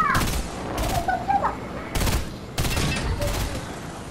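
Gunfire aimed at a helicopter in the Fortnite video game, loud separate bursts of shots spaced about every half second to a second, with a low engine rumble and brief faint sounds between them.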